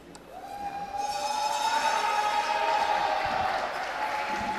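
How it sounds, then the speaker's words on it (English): Crowd at a women's curling Olympic qualification match between Czech Republic and Finland swells into a sustained, murmuring reaction in the arena, with a steady tone running through the noise. "There's a reaction of the crowd and you hear in the background"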